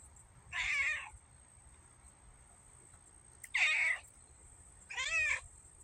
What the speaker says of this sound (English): Sound advice from a cat that hunts mice.